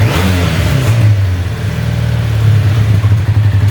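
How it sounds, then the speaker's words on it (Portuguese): A motorcycle engine idles steadily after its carburetor has been adjusted, a loud, low, even putter that holds throughout with a slight rough pulsing toward the end. "olha a lenta da moto, ó"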